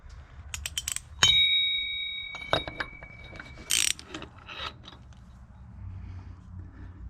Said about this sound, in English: let's go ahead and get these hubs off, these locking nuts that are in here